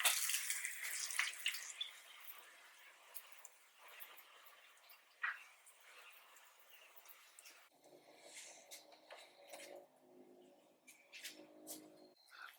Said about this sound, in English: I'm gonna throw water in it.